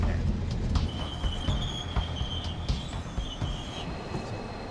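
A KiwiRail train at National Park Station in New Zealand, with a steady loud rumble of rolling wagons, intermittent high wheel squeal and faint rail clatter throughout.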